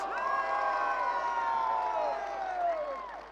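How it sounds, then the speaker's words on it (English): Event crowd cheering, a sustained chorus of raised voices holding long shouts together in one swell, moderately loud and without distinct clapping. "Let me hear you. Applause."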